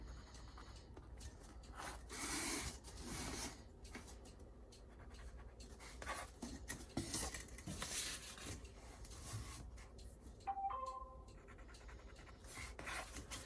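A 12 by 12.5 inch panel for an oxygen concentrator frame is cut by hand in repeated rasping, scraping strokes with uneven pauses, close and fairly quiet, with no talk.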